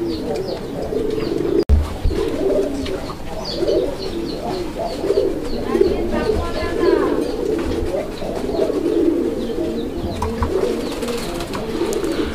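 Pigeons coo at close range in soft, repeated throaty phrases that run almost continuously, with a brief sharp knock near the start and faint background noise.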